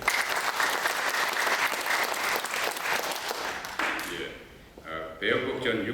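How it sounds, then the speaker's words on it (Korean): Sustained applause from an audience at a prayer breakfast service, dense and steady for several seconds, then fading out as a voice begins speaking. "전체 우리 박수 한번 하겠습니다"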